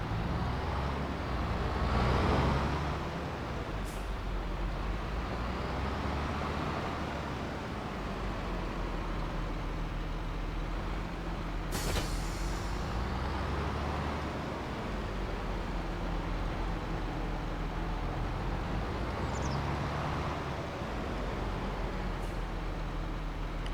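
Tractor engine droning as it drives across a farm field in Farming Simulator 25, a steady low rumble holding constant for the whole stretch with faint occasional clicks.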